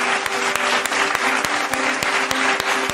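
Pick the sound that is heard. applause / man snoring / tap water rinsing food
applause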